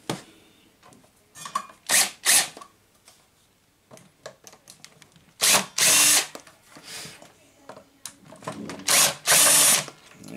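A power drill backs screws out of a miter saw during disassembly, in short bursts of whirring separated by pauses and small clicks and handling noises, loud and close.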